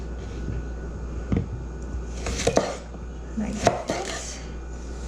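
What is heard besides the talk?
dicing small cucumbers with a knife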